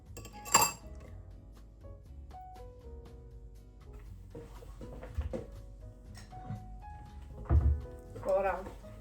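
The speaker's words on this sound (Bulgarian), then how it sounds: "И сега си слагаме една лъжичка карамел." A spoon clinks against a glass while caramel is added to two shots of espresso, a few sharp close chinks and light clatters in a quiet kitchen, with occasional soft talk.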